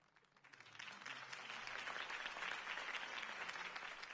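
Crowd applause follows a campaign speech in the Batman Telltale video game, swelling quickly from quiet to a full, sustained wash of clapping that stays loud and even without any voices over it.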